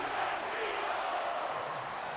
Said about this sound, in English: Oh, and this crowd's getting into it now.